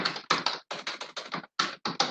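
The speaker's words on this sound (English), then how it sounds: "let's type my name in here" Rapid bursts of key taps as a name is typed on a computer keyboard into a database form text box, close and fairly loud, in short clustered runs with brief pauses.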